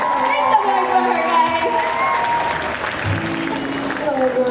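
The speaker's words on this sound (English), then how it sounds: "Can you all please give a warm, warm round of applause" An audience at a holiday concert at International Market Place applauds steadily, with scattered cheers and whoops mixed in, a close, sustained wash of clapping.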